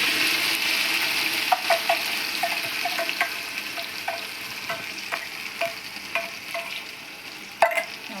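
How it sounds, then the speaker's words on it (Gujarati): Crushed onion and tomato hit hot oil for a jhinga curry, giving a steady close sizzle of frying with scattered stirring clinks and scrapes throughout, no voices. "હવે આની અંદર આપણે આ કાંદા ટામેટા ક્રશ કર્યા છે તેને ઉમેરી દઈશું"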